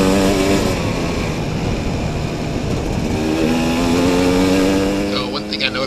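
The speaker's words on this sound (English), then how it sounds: "this is pretty much top speed for this bike with the gearing and only having a 5-speed" A KTM 250 SX two-stroke dirt bike with a 5-speed gearbox is held near its top speed, its engine a loud, steady, high-pitched wail with slight pitch shifts, close to the rider and alone.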